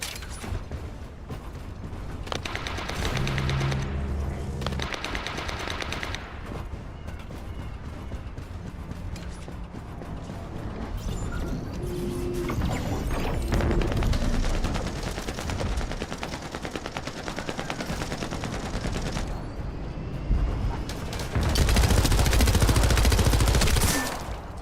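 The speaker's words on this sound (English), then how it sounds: "Submachine gun's lethal at close range." Submachine gun fire in The First Descendant sci-fi shooter game, loud rapid bursts repeating across the clip amid mechanical clatter, creaks and a dense game soundtrack, with a heavier surge near the end.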